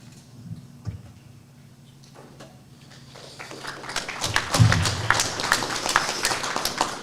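Audience applause at a school board candidates' night, beginning as sparse scattered claps and swelling over the second half into fuller, steady clapping from a room of people.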